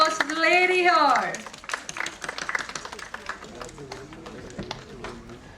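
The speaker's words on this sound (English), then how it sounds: "Can we have a round of applause for the lady here?" Clapping from the audience at an awards ceremony for an award winner, light and scattered, starting beneath a loud burst of music or voice and continuing as uneven patters while someone talks over it.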